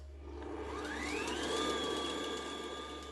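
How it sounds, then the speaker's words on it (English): Kenwood stand mixer whisking cream, a steady close motor whine with a rising pitch sweep that settles into a constant tone, running alone without voices. "I've got my kenwood at the ready again, and I am going to put half of this cream in there, like so, and whisk it up"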